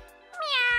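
A kitten gives a single short, rising meow, close and clear.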